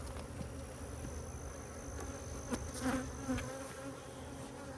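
Honey bees buzz around open hive frames at a cow pasture apiary while boxes and supers are changed, a faint, steady hum with a few louder passes and soft knocks close by.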